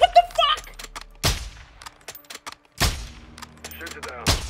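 Gunshots in the video game Call of Duty: Modern Warfare II, a few sharp separate bursts spaced through the stretch over quieter game sounds and faint voices.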